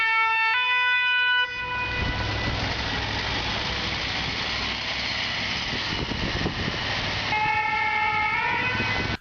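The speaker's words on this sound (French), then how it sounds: "qu'un camion de pompiers passe devant nous, nous remarquons que le son émis lorsqu'il se rapproche est différent du son émis" A fire truck siren wails as the truck passes close by over a loud engine rumble. The tone is higher on approach and drops lower as it moves away.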